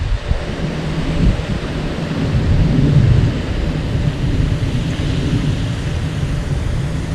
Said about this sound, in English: Looks like that storm's going around and not straight over